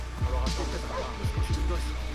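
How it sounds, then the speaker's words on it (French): A dog barks in short, repeated yips and whimpering calls over a low rumble, with a few distinct bursts spread across the stretch against a noisy background. "Vous entendez pas aboyer?"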